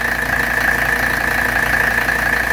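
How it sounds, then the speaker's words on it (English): Engine of a 1984 Mercedes 300SD idling steadily after a service with valve adjustment and new filters, a loud, close, continuous diesel clatter with an even rhythm throughout and no voices. "That is an incredibly good condition engine."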